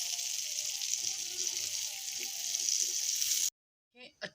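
Corn roti batter spread across a frying pan sizzles in a steady, bright, hissing fry, close and continuous, then cuts off abruptly before a brief voice.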